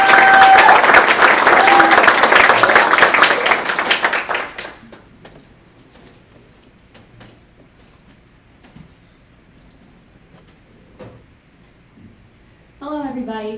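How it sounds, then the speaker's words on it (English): An audience applauds student summer interns at an enrichment program event, a loud burst of dense clapping for about four seconds that quickly dies to a quiet room, followed by a voice starting to speak near the end. "So if you give them a round of applause."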